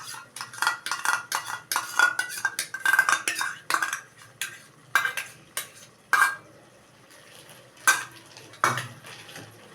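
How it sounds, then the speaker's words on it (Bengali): Whisked sour yogurt is stirred into fish curry masala for doi katla in a pan, with close, irregular bursts of spoon scraping and metallic clinks against the pan and short pauses between strokes. "দিয়ে এটা সঙ্গে সঙ্গে ভালো করে নাড়তে হবে বেশি করে"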